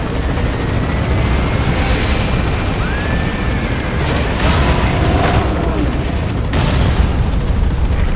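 Military helicopter in Metal Gear Solid V: The Phantom Pain, a loud steady rotor and engine roar that runs the whole time, with deep rumbling booms and a few whooshing sweeps laid over it.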